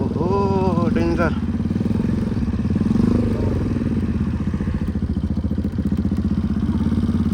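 A motorcycle rides a rough, damaged road with a steady close engine drone and clattering over bumps, while people talk over it.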